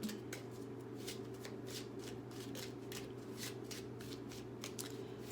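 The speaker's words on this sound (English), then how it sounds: "I'm gonna pull another card too. I feel like pulling cards tonight." Tarot cards are shuffled by hand in a quiet room, producing a steady run of soft, rapid riffling flicks, close and faint over a low constant hum, with no talking.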